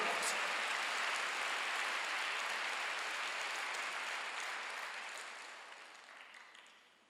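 A church congregation applauding during a Sunday worship service, giving a broad, hissing wash of many hands clapping together that holds steady and then fades away toward the end.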